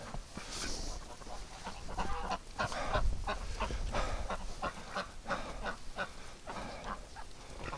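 Ducks call from a snowy winter swamp edge, a scattered run of honking quacks at middle distance over a steady noisy outdoor background, no voices.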